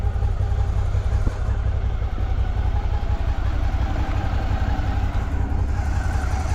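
A loaded touring motorcycle, packed for a long road trip to Norway, gives a steady, loud low engine rumble with constant wind-like roar and no distinct revving.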